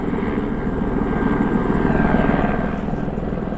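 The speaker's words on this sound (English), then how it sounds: "the helicopters dropped the first two off and it's just coming back." A helicopter returning after dropping off search and rescue crew in the mountains around Aoraki Mount Cook, its rotor thudding loud and steady throughout with the engine droning alongside.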